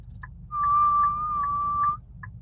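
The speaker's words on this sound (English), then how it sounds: "breathing in and whistling" A single sustained whistle made while breathing in, a steady high tone holding for about a second and a half, fairly loud and close, with faint low background hum and no talking.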